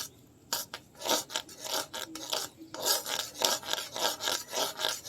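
Sugar caramelising in a pan for red sweet yogurt, stirred with a spoon over low heat. The utensil gives quick, repeated scraping rasps in an uneven rhythm, close and fairly quiet, with no voices.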